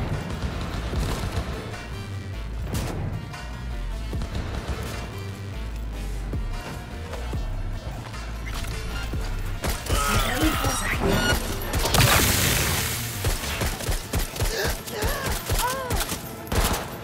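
Dense gunfire in the Cyberpunk 2077 Phantom Liberty expansion, with rapid bursts and single shots that intensify into heavy chaotic volleys with crashes over a game score, while players talk at times.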